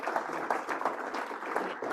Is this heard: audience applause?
yes